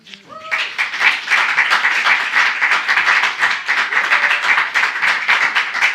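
Audience applause for poet Morgan Parker at a book launch, a dense, steady clapping that swells in and holds loud and close throughout, with scattered cheers or voices blended into the crowd.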